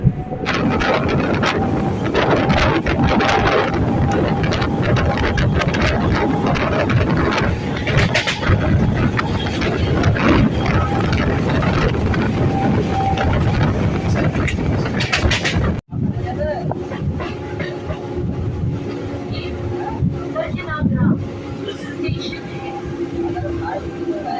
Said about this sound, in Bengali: আমাদের ট্রেনটি এখন আমারও স্টেশন থেকে ছেড়ে দিল